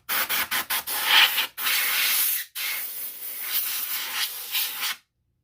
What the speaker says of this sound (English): I'm going to take some canned air and blow all this stuff